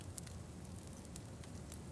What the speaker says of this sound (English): The fire crackles quietly.